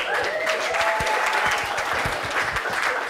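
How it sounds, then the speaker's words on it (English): Wedding guests clap in a dense, sustained burst of applause that fills the room, with a few louder individual claps standing out and faint voices mixed in underneath. "One more round of applause, ladies and gentlemen"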